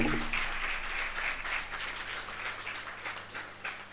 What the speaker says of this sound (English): A round of applause only for Dada and only for Dada